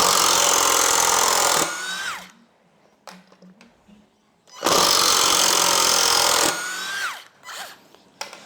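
A Dongcheng DCPL208 20-volt cordless impact driver runs long screws of two to three inches in two loud, close bursts of about two seconds each, each ending with a falling whine as the motor winds down. Brief clicks and handling noise fill the gaps.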